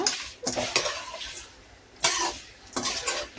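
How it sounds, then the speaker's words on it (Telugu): Mustard seeds fry in oil in a pan for gongura pachadi, giving a few sharp crackling bursts and scraping clatters separated by quieter stretches. "ఆవాలు వేసేసి ఇంకా మంచిగా వేయించుకుందాము మాడకుండా."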